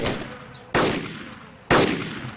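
Gunfire in DayZ, three loud sharp shots spaced roughly a second apart, each followed by a decaying echo.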